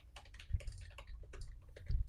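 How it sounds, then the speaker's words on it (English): Computer keyboard typing, a quick irregular patter of close key taps with a few heavier thumps, moderately quiet. "I was just typing out a response to this."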